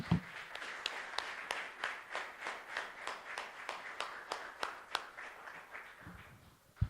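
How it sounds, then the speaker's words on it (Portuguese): Church congregation clapping in a steady, even rhythm, faint and distant, with no talking over it. "Mais uma salva de palmas ao Senhor."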